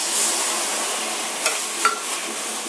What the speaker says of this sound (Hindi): अब इसको हम लोगों को 3 से 4 मिनट अच्छी तरह से चलाते हुए भून लेना है